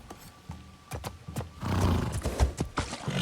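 A horse neighs and whinnies in Assassin's Creed Shadows, with several sharp snorting bursts followed by a louder, longer stretch of whinnying and hoof clatter, close and clear with no talk.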